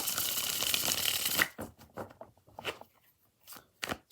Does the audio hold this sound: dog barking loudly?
no